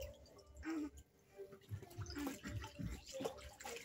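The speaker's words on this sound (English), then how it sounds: "when me bathe him in my warm water, no cry, no foul" A baby being bathed in warm water with pear soap, giving intermittent soft splashes and trickling water at close range, with faint sounds of movement between the splashes.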